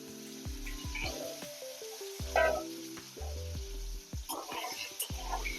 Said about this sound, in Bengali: দিয়ে ভালো করে আলুগুলোকে ভেজে নেব।